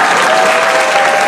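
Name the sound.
audience applause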